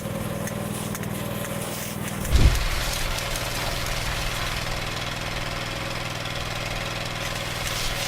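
A fire brush truck engine idles steadily at close range, a low rumbling drone with a brief louder bump partway through, then settling back into an even, continuous idle with no talk.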